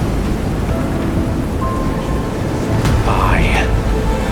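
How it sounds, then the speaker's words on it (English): A thunderstorm in a video game story scene: steady heavy rain hiss with a low rumble of thunder beneath, while a voice speaks over it. "when the storm surges from the deep sea"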